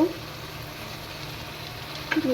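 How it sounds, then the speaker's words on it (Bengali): Potatoes, vegetable stalks and tomatoes frying in a pan, a soft steady sizzle with light stirring, fairly close, with a faint voice at the start and end. "ডাটাটা আর আলুটা আমি এখানে দিয়ে ভালো করে কষাই নিতেছি"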